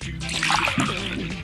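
Water pouring in a Masha and the Bear pizzeria cooking video game, a short continuous splashing trickle lasting about a second and a half at steady moderate loudness, with music or game sounds faintly underneath.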